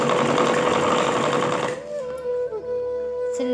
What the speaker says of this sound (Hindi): तो गाइस एक पैर की सिलाई देते हुए इसको